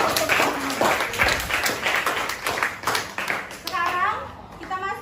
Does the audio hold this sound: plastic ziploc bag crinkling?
no